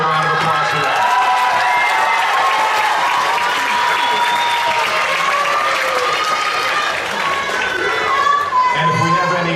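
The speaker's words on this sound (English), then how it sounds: "one more round of applause for that" Audience at a 2018 high school graduation ceremony applauds steadily and loudly with cheering and whoops mixed in, a continuous crowd roar that holds throughout with some voices rising above it.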